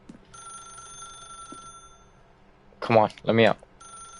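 An old-fashioned telephone bell rings steadily in The Stanley Parable, a continuous trilling tone running through most of the moment while a voice breaks in loudly near the end.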